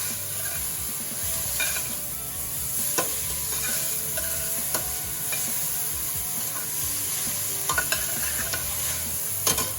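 Black pepper being stirred into a pot of cauliflower soup base, giving a continuous close sizzle with scattered spoon scrapes and light clinks against the pot.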